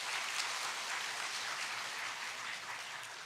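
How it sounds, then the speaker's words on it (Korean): A church congregation applauds the choir during a Sunday worship service, a fairly faint, steady patter of many hands clapping throughout, heard without talk. "우리 찬양대 잘하지요? 그러면 박수 한번 부탁드립니다."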